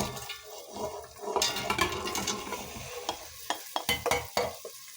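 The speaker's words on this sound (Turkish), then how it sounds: "şimdi nohutumu ilave edeceğim" Boiled chickpeas tumble into a cooking pot and are stirred through, with wet splashing, scraping and a run of sharp clicking knocks of spoon against pot, close and fairly loud.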